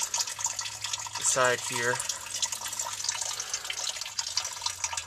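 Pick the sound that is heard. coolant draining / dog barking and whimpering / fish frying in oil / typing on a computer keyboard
coolant draining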